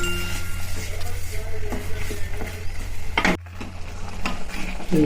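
A spoon stirs carrot halwa in a pan, steady scraping and soft sizzling with a few light clinks against the metal, continuous and close up.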